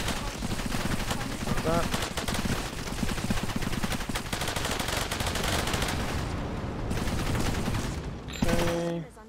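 Airstrike blasts and rapid gunfire in the video game Cepheus Protocol, a loud, dense barrage of cracks and booms rolling continuously, with a brief pause and a final burst near the end, a voice speaking briefly over it.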